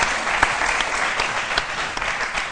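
Audience applause greets a presenter about to unveil a computer-related invention at a live stage event, a steady dense wash of clapping with a few sharper claps standing out, close and fairly loud.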